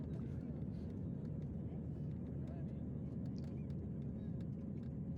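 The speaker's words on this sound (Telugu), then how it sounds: "బెంగళూరు ఎయిర్పోర్ట్ నుంచి ఇప్పుడే టేక్ ఆఫ్ అయింది ఇండిగో ఫ్లైట్" Inside the cabin of an IndiGo plane taking off from Bengaluru airport, a steady, low engine roar fills the space at moderate volume, with voices faintly underneath.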